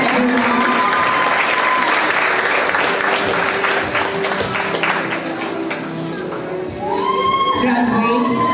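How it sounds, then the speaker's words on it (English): A commencement audience applauds its graduates with sustained, dense clapping that fills the hall, a few whoops and cheers rising through it. The applause dips briefly and then swells again. "Please give them a big round of applause"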